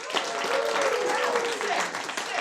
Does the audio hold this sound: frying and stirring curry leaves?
no